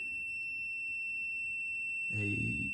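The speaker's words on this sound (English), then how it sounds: "maybe you don't want to hear the audible alarms" Electronic alarm from an NC Miata multi gauge display sounds as a steady high-pitched tone, continuous and fairly faint, joined near the end by a brief burst of louder, lower noise.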